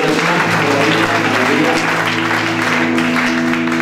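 Congregation applauding at a Christmas church service, a steady dense clapping lasting throughout, loud and close, with sustained music tones from the band underneath.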